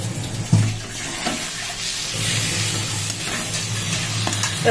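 Water poured into a pan of frying fish curry masala with garam masala makes a loud, close rush of liquid over hot oil, with sizzling continuing beneath it.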